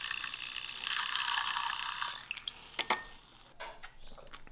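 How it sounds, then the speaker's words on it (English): Water pours steadily into a cup holding a half scoop of powder for about two seconds, then stops, followed by a few light clinks and taps of the cup, fairly close and with no voices. "Oh, I put way too much water in this."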